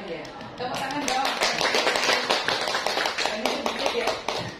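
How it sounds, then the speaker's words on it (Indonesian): An indoor audience at a teachers' session claps steadily for several seconds, a dense patter of many hands with some voices mixed in. "Tepuk tangan dong."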